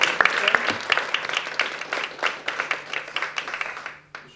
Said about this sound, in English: let's hear another round of applause if you think you're listening